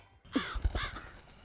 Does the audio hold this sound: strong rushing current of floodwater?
no